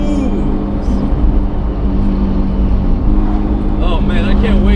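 A tuned Honda Integra engine roars loud and steady from inside the car, holding high revs throughout with a continuous droning tone, while voices talk over it near the end.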